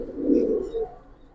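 A Giribaz or coloured pigeon gives a single soft, low coo, close and brief, alone in a quiet setting.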